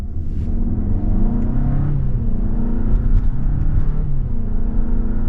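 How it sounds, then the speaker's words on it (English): A 2024 Hyundai Santa Fe Limited AWD with an 8-speed dual-clutch transmission downshifts, heard as a steady engine hum and rumble whose pitch steps down through several gear changes. "So that 8-speed dual clutch is just firing off really, really well."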